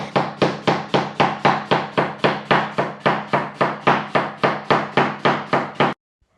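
A knife chops onions and tomatoes on a board in a fast, even rhythm of about twenty close, solid knocks, then stops abruptly into silence, with no voices.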